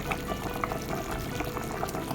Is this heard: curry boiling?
yes